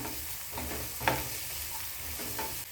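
Green peas fry in oil with garlic and green chilli paste, giving a steady close sizzle with occasional scraping stirs of a spoon in the pan, and no voices.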